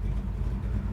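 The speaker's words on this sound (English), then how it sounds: "We're idling nicely, not wanting to stall out." A 1969 Chevrolet Chevelle idles on a hot Florida day, a brief, steady low rumble with a faint pulsing throb, heard close and alone.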